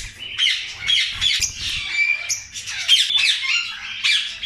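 A red-eyed lutino personata parrot squawking in a breeding aviary, a run of sharp, loud, close calls that continues throughout with brief gaps.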